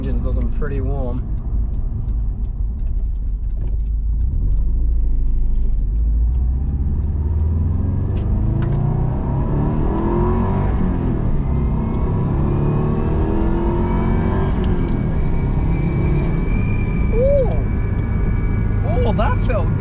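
A warmed-up Subaru engine with a dirty MAF sensor runs close by and loud. Its steady rumble rises and falls through a long rev before settling back, with someone talking over it at times.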